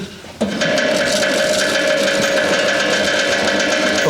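Post-fire seed drill wheel turned by hand to prime the seed, a steady mechanical whir and rattle with a sustained tonal hum starting abruptly and running evenly to the end.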